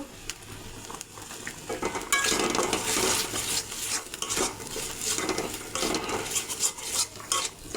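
A spice masala with coriander powder and salt, cooked for a tangy, spicy fish curry, is stirred and scraped in a pan: steady metallic scraping and clinks over a soft sizzle, close up and without speech.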